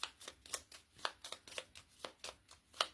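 Cards shuffled for a card reading, a close, quiet run of quick riffling flicks in an even, rapid rhythm.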